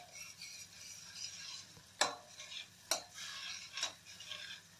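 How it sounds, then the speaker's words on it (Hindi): Masala cooking in ghee is stirred in a pan, the spoon scraping in three distinct sharp strokes over a soft, steady background sizzle, close and fairly quiet, with no talking. "तो घी जब तक मसाला घी नहीं छोड़ता तब तक पकाना है।"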